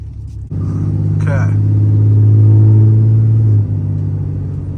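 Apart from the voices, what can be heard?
2016 Ram 2500 diesel truck driving off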